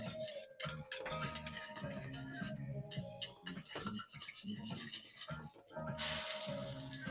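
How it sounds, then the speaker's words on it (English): Polenta being whisked in a pan, a steady scraping and rubbing with rhythmic strokes throughout, close and fairly loud. "So just whisk it until it all comes together."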